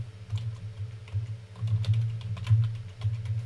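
Someone types a password on a computer keyboard: quick, uneven runs of close, crisp key clicks over a steady low hum, with no voices.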